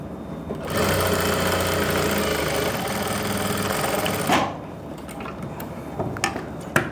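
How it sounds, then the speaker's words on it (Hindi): A sewing machine runs steadily while stitching a trouser seam for elastic-back pants, a close, loud whirring rattle for several seconds that stops abruptly, followed by a few quiet handling clicks. "बस इस निशान के ऊपर ही आपको सिलाई लगानी है"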